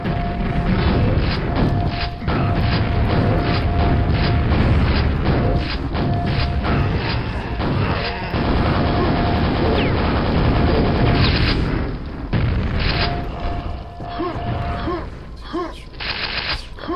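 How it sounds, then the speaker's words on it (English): Ogres lobbing grenades in the video game Quake set off a dense run of booming explosions mixed with gunfire, loud and nearly continuous with a few brief lulls. "these ogres are just crazy with grenades"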